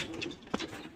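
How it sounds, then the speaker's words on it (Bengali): Hundreds of pigeons in a crowded loft, soft low cooing with a light flutter, heard faintly and close. "শত শত কবুতর আছে।"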